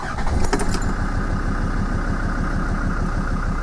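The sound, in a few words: Land Rover Discovery 2 Td5 engine starting after oil change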